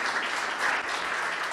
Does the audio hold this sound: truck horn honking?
no